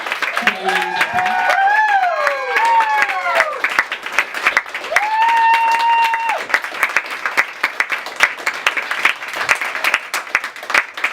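Loud audience applause and cheering at the close of a live literary salon show, with whoops and a sustained roar of clapping, while a voice calls out over the crowd early on.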